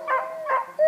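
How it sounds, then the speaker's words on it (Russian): Hunting dogs at a field trial whine in high, strained yelps, three short cries close by with brief pauses between them. "Ой, собаки рвутся."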